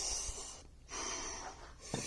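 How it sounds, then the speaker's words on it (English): Deep, forceful breaths in and out through the nose come from close range during dumbbell hammer curls with a 35 lb weight: a long hissing exhale, a short pause, then another heavy breath, with no talking. "You want to breathe real deep, deeper than I'm breathing."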